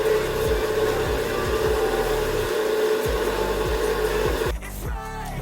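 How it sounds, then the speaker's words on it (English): A kitchen blender whirs steadily while mixing a turmeric drink, a loud continuous motor drone with rhythmic churning pulses, slowing and changing pitch near the end as the blade winds down. "Okay, so I will start blending again to mix everything together."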